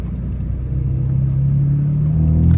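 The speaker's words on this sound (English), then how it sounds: "you can probably hear the car more" A 2016 BMW M4 Competition (F82) engine rumbles with a deep, steady drone that swells slightly louder as the car rolls along in automatic drive. No one speaks.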